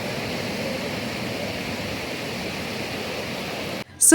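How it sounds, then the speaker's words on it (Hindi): Ocean waves wash along the seashore in a steady, broad hiss of surf that holds evenly for several seconds, then cuts to near silence before a brief louder burst at the end. "और लहरों की स्पेशली ये जो नेचुरल साउंड होती है ना ये बहुत रिलैक्सिंग होती है।"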